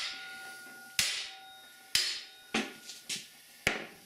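Hammer whacking a golf cart part to knock it loose: five sharp metallic strikes at irregular intervals, close and fairly quiet, each with a short ringing decay, over a faint background hum.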